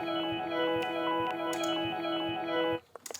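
Ambient guitar-style atmosphere patch built in the Vital synthesizer, a soft, sustained shimmering pad with faint plucked accents that fades out abruptly near the end, followed by a few small clicks.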